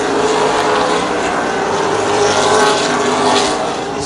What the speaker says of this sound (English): Here we go, green flag, we're racing.